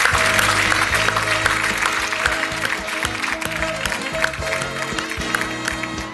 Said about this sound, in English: So a pretty big round of applause.